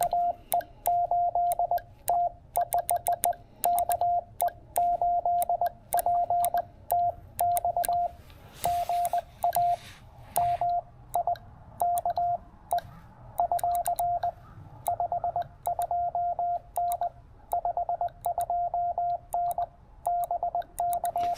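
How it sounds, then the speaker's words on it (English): Morse code on amateur radio from a low-power five-watt portable station: a clear single tone keys rapid dots and dashes in bursts over faint receiver hiss, with short pauses between groups. "So good to hear you on CW, Mike."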